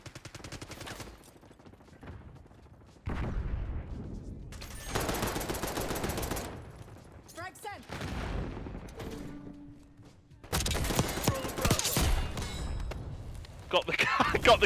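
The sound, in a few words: gunfire and frag grenade in video game Call of Duty Black Ops 6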